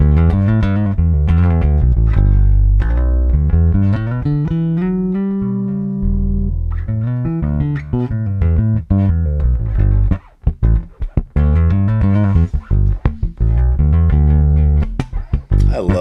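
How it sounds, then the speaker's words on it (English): Clean, round Jazz Bass on its neck pickup, recorded straight DI, playing a melodic line with slides and a sustained bend, then quicker plucked and muted notes; no voices. "sounds like a jazz bass, right? And that's, just straight in, just DI"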